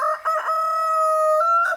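A rooster crows once in a long, loud, sustained call that rises at the end, close by with no talk over it.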